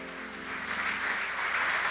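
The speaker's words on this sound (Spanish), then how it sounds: "Denle un fuerte aplauso al Señor." Short burst of congregation applause at a church service, rising slightly and blending with sustained keyboard chords underneath.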